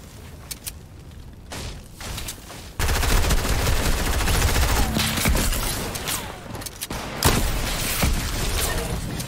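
Exotic Dragon Breath sniper rifle in a video game: sharp, loud shots punctuate a noisy firefight, with rattling bursts of gunfire and heavy continuous rumble after the first few seconds.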